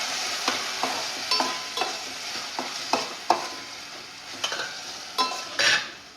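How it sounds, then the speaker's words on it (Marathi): A large red tomato and two green chillies fry in a pan for a Maharashtrian misal pav. A steady, soft sizzle runs underneath while a utensil scrapes and stirs in frequent, irregular strokes close by. "आता याच्यामध्ये एक मोठा साईजचा लाल टोमॅटो आणि 2 हिरव्या मिरच्या घेतल्या आहे. हे टाकून छान आपण याला भाजून घेऊ."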